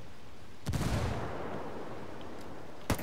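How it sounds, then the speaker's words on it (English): Gunfire in an online ranked shooter match: a sharp close shot with a trailing boom, a steady noisy battle bed, and another crisp shot near the end. "I'm under heavy fire."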